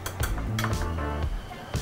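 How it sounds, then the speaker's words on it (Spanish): Egg being beaten in a bowl with a fork or whisk for pork milanesa, a quick clinking scrape of utensil against the bowl at close range, with a few louder taps at the start and the end. "Entonces batimos el huevo."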